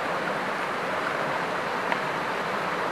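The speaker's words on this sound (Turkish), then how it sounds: "Bir akarsuyun kenarındayız" Stream flowing beside a hiking campsite, a steady, full rushing wash of water that stays constant and close throughout with no voices.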